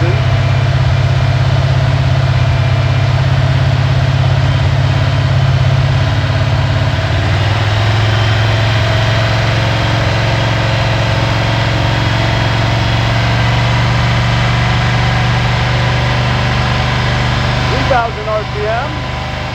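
A hydrogen-powered V8 engine runs at a held 4000 RPM, a loud, steady droning hum with layered tonal harmonics, slightly shifting around the middle and cutting sharply near the end.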